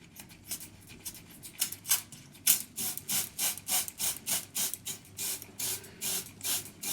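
A spray bottle mists water onto a freshly transplanted scalp: a quick run of about a dozen sharp, hissing spritzes, close and fairly loud, falling into a regular pumping rhythm after a few scattered first squirts.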